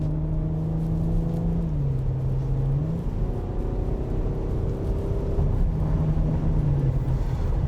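A 2019 Porsche Cayenne S accelerating in Sport Plus mode, its engine drone climbing in pitch, dipping briefly at a gear change and rising again, heard from inside the cabin over steady road noise.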